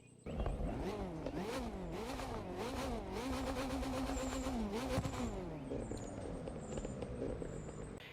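KTM X-Bow GT2 race car in the video game The Crew 2, its engine revving up and down through repeated rising and falling sweeps, loud and continuous for the whole stretch with no talk over it.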